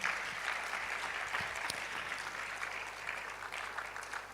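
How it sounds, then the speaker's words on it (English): An audience at a medical college public lecture applauds steadily, the clapping moderately distant and continuous, with a few sharper claps standing out and no speech. "Another round of applause for her"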